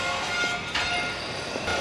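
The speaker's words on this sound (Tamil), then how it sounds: "ஆக்சுவலி இன்னொரு ட்ரெயின் வந்துட்டுருக்கு." A train approaches smoothly along the rails, giving a soft, steady rumble and hiss with no clear horn or wheel clatter. It stays fairly faint throughout and no one speaks.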